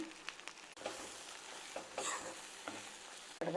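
Spices sizzle and crackle in a hot pan, with a few scrapes of stirring and short clanks breaking the steady frying hiss.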